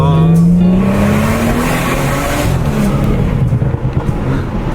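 A Bootmod3 Stage 2 tuned BMW F30 340i sounds a rising engine rev that falls away into a loud, crackling, popping exhaust burble with irregular sharp bursts toward the end.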